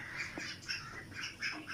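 Farm ducks squawk and quack in short, harsh calls, repeating several times at moderate distance with no voices.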